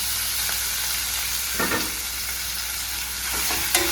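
Chopped tomato being sautéed and stirred in a pan for a Sunday meat curry, giving a steady soft sizzle with a few louder scrapes and stirs, no voices.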